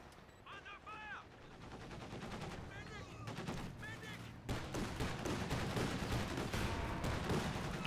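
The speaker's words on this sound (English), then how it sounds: "Kettenwerfer finds a nice hit on the flak half-track there" Kettenwerfer rocket artillery striking a flak half-track in Company of Heroes 2: a layered battlefield din of gunfire and explosive blasts that thickens into a sustained roar, with whistling projectile sounds early on.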